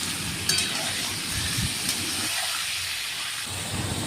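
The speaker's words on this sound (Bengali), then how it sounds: "ম্যারিনেট করা মাংসগুলো কড়াইতে দিয়ে ভালোভাবে ভেজে নেব" Marinated chicken frying in plenty of hot oil in a wok, seasoned with bay leaf and garam masala, makes a loud, steady sizzle and crackle with occasional stirring sounds.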